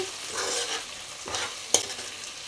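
Fried drumsticks and onions stirred in a pan, with soft scraping sweeps over a gentle sizzle and one sharp clink of the spoon near the end.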